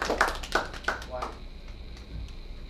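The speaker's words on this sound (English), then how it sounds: "please give him a round of applause" A few scattered hand claps from a small audience at a magic show, brief sharp bursts in the first second or so, with talking going on over them.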